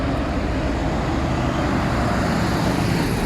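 A new Ferrari, such as an F8 Tributo, drives out of the Maranello factory onto the road, giving a steady, fairly loud broadband engine and road roar that holds even throughout.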